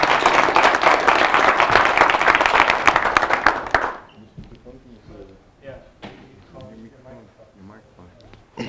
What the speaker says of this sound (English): Give a round of applause for Boris.